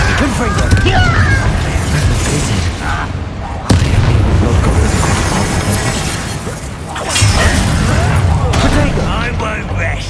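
Confringo fire spell explosions in Hogwarts Legacy: loud booming blasts and shattering impacts hit in quick succession amid heavy combat noise, with voices talking over the fight.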